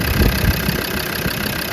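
A Land Rover TD5 diesel engine idles just after a cold start, a steady loud rumble with a knocking low-end chatter throughout.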